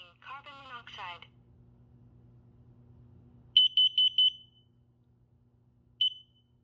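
A new home smoke detector sounds during a test, first with a brief electronic voice warning, then a short series of four loud high beeps, quiet for a moment, then one more beep, close in a quiet room.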